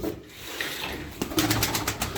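A Gitti pigeon with a breathing problem coos a few soft, low calls close by, with faint rustling behind it and a few sharper bursts near the end.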